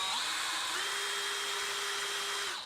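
Electric drill with a paint mixer attachment stirring paint, a steady high whine that holds for about two seconds before winding down, alone with no talk.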